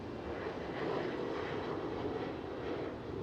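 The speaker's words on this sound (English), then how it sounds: "This is the ETH 777 with the old livery." An Ethiopian Airlines Boeing 777 in old livery at Amsterdam Schiphol Airport, its jet engines giving a steady, broad roar that stays loud and even throughout, with no voices.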